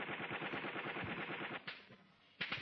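Rapid automatic gunfire crackles continuously from a platoon attack in a war film, dense overlapping bursts that stop briefly before a final sharp shot, loud and close.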